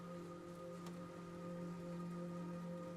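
Steady, gentle rain falls in a sustained, constant patter, quiet and even throughout with a faint low hum beneath and no voices.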